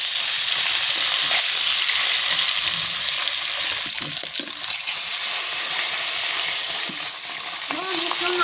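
A fish head and tail fry in oil, a loud, dense, continuous sizzle and crackle close up, with occasional stirring knocks and no talking.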